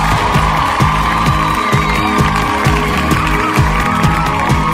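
A live concert audience claps and cheers steadily in a loud, dense crowd wash, with rhythmic band music pulsing underneath throughout.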